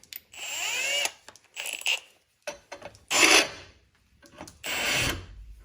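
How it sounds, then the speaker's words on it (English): A deburring or chamfer tool cuts into drilled holes in aluminum intercooler piping, giving several loud, close scraping and grinding bursts of about a second each, separated by short pauses, with no talking. "We're going to throw a quick chamfer on these just to help with the tap get started."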